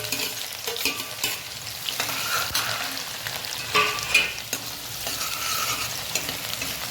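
Onions fry in a pan with tomatoes, masala, garlic and ginger paste, a steady close sizzle with intermittent stirring scrapes and no talking.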